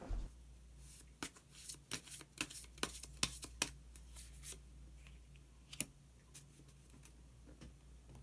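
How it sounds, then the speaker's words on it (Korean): Tarot cards handled and drawn from a deck during a reading: a run of crisp, quiet card snaps and flicks in quick irregular succession, then a few scattered clicks, with no talking. "그러면 마지막으로 마법사 카드 한 장 더 뽑아보도록 하겠습니다"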